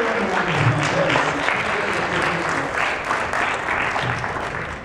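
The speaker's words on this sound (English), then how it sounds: "Give everyone a round of applause." An audience at an acting workshop held at an anime convention gives sustained, dense applause, loud and continuous throughout, with a faint voice briefly audible beneath the clapping.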